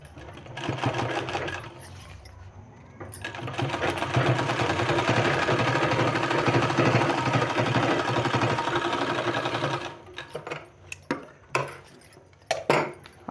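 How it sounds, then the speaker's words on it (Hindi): A sewing machine stitches a sleeve in steady, loud running bursts, a brief pause near three seconds, then continuous whirring until about ten seconds, ending in a few short stop-start stitches and clicks. "इस तरह से हमको सिलाई लगाना है"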